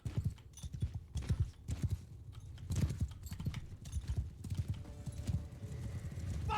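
Horses in the medieval battle game Mount & Blade II: Bannerlord clatter along in steady, rapid clip-clop hoofbeats, close and fairly loud over a low rumble of battle ambience.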